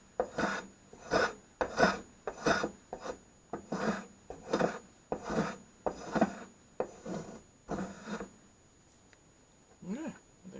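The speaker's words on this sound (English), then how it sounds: "Shavings are coming off nice and clear, and it leaves the wood behind fairly smooth as well." Vintage spokeshave shaving wood in a steady series of about a dozen rasping strokes, each a short scraping pull close to the microphone, with brief pauses between them.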